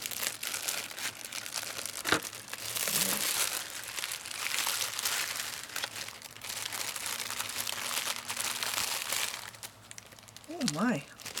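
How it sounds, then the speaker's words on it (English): A small plastic bag sealed with tape crinkles steadily as it is pulled open during an unboxing, a continuous close rustle with a sharp snap partway through, and a voice speaks briefly near the end. "let's open this little bag here"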